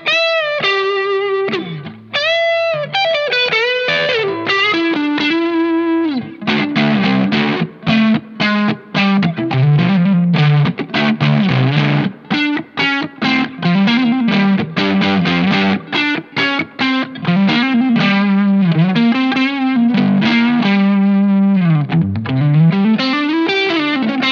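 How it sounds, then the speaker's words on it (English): An electric guitar plays a lead through a pedal set to a fuzzy, overdriven 'woman tone' amp sound. It is a loud, sustained, saturated melodic line with bending notes and quick runs, and no voice is heard. "It's just, it's kind of fuzzy, but it's that overdriven amp sound."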